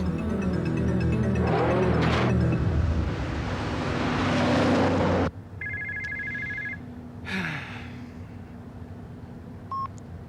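A telephone rings in an indoor scene, with loud ringing and mixed noise early on, then clear repeated electronic ring tones after a sudden drop in background, before an answering machine picks up.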